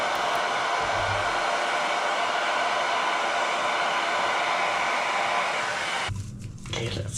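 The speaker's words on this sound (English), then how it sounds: "back to the dryer again" A hair dryer blows steadily and loudly on craft flowers for a fairy garden, a continuous close whoosh that cuts off near the end, followed by brief faint handling sounds.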